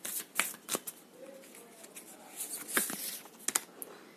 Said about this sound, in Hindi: Okay, I will take one more card from this deck.